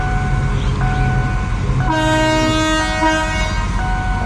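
Ordinary train 208 of the Thai state railway pulls into Don Ya Nang railway stop with a steady rumble nearby, then sounds a loud, sustained horn partway through that holds to the end.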